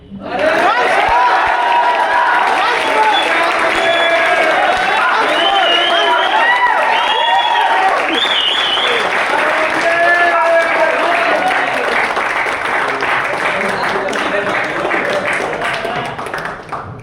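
Loud, sustained applause and cheering from an audience at a cultural event in Lucknow, right after a song performance. The clapping is dense and continuous, with crowd voices mixed in, for the whole stretch.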